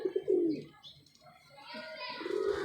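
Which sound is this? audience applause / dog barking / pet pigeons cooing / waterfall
pet pigeons cooing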